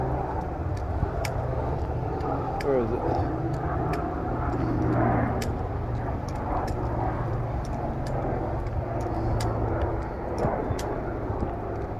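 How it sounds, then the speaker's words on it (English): Steady engine drone of aircraft overhead, a low continuous rumble with clicking noises on top and a brief voice. "the helicopters again"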